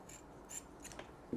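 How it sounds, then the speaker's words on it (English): Scissors make a few faint, soft snips while trimming the wick of a century-old oil bicycle lamp, close up in a quiet room. "Now I don't need all of this in there, so let's trim off some of this."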